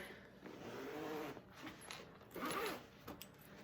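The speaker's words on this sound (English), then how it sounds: "take off one of my zippers" A bag zipper is handled in a quiet sewing room, with two short bursts of zipping and rustling separated by softer fiddling with the fabric and hardware.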